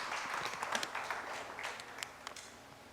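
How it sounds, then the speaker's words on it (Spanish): A church congregation applauds faintly in the distance, a soft, even patter of many hands with a few sharper claps standing out. "Denle un aplauso al Señor"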